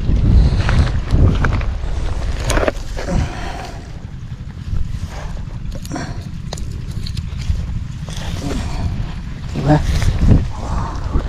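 Gusty wind buffets the microphone in loud, uneven bursts, with scattered knocks and brief voices in the background.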